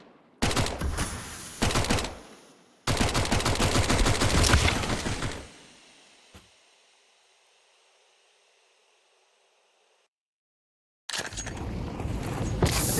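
Gunfire from the Counter-Strike 2 video game on the Mirage map comes as loud bursts of rapid shots, a short burst, a longer sustained spray, then a fading tail, a pause, and more firing at the end.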